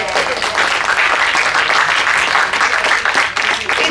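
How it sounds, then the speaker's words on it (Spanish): A room full of people bursts into loud, sustained applause at a talk about building peace, dense clapping near and far running the whole stretch with a few voices mixed in. "un aplauso"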